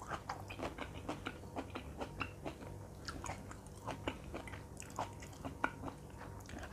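Chocolate-coated cherry tomatoes being bitten and chewed close up, a steady run of soft, moist crunches and squishy mastication clicks spread evenly over several seconds, quiet and intimate with no talking.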